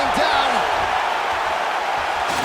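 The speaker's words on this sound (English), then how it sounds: "So the crowd voicing its appreciation after that round" A large arena crowd roars in appreciation after a round of a UFC fight between Kimbo Slice and Brock Lesnar, a dense, continuous wash of cheering with a few whoops and whistles rising above it.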